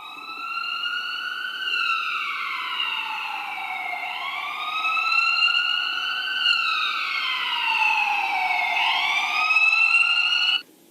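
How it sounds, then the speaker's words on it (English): Police and ambulance sirens wail together, several rising and falling tones overlapping in long sweeping cycles, fairly loud and continuous before cutting off abruptly, with no voices. "we could hear a lot of police and ambulances, sirens"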